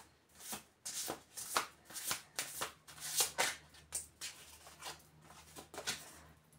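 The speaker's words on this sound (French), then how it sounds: "Même s'il a des grandes cartes compliquées à brasser." A deck of large tarot cards is shuffled by hand at close range, giving a series of quick riffling bursts in an irregular rhythm over a quiet background.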